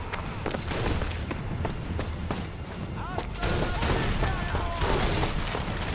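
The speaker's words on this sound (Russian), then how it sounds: "не могу понять, откуда стреляют" Rapid gunfire rattles constantly in Sniper Elite V2 Remastered, dense overlapping shots and bursts close and loud, with someone talking briefly over the shooting.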